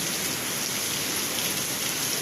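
Heavy afternoon rain pours down steadily in a dense, unbroken hiss, close and loud, with no voices.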